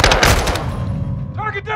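Burst of rapid gunfire from Call of Duty Modern Warfare 2 during a prison break mission, loud and dense at first, then fading as a voice speaks near the end.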